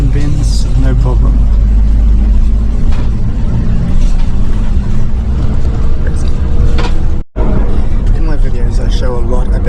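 A Taiwanese bus speeds down a winding mountain road, its engine and road roar loud and constant throughout, with a brief dropout near the end and voices talking over the noise.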